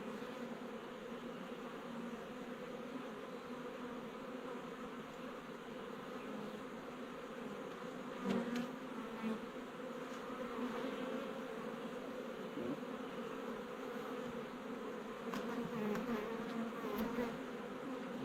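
Honey bees buzz continuously around exposed dark comb from a tree felled in a storm, a steady hovering drone with individual bees passing close now and then.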